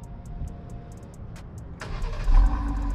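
A 2021 Dodge Durango GT with the 3.6-liter Pentastar V6 starts up: a low idle hum gives way to a sudden crank and catch, settling into a louder, steady close engine rumble.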